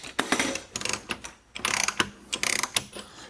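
A HYTORC torque gun working on a Porsche centerlock wheel nut, giving quick clicking, ratcheting mechanical bursts in irregular clusters, close and fairly quiet, with no one talking.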